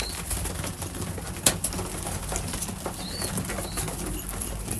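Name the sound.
racing pigeons eating and cooing in the loft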